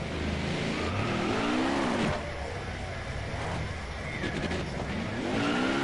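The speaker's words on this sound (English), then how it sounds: "that's how I do the burnouts" A car in a PS4 racing game does burnouts, with constant loud engine revving and squealing tires that rise and fall in pitch, and a voice talks under the noise.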